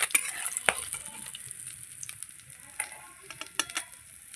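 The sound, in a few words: fish frying in oil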